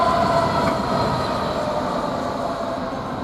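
Maritime intermodal freight train passing through Peterborough station, a steady loud rumble and rolling wagon noise that holds evenly throughout with no voices.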